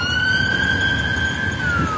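A loud, close ambulance siren wails in a steady, sustained tone that slowly falls in pitch, over a rumbling background.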